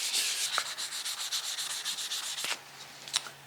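Ladder-pattern Damascus steel is hand-sanded through progressively finer sandpaper grits, a rapid rhythmic back-and-forth rasping of strokes, close and steady, with a few sharp ticks.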